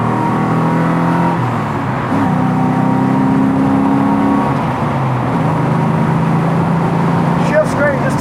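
A 1969 Mustang restomod cruising at highway speed drops from fifth to fourth gear, its engine note rising into a steady, louder drone with road and wind noise, while someone talks over it.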